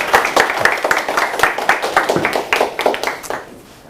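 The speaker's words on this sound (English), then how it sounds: "That was an okay round of applause." An event audience claps for speaker Rob Moore with distinct, fairly close hand claps in a brisk, uneven patter that thins out and stops after about three seconds.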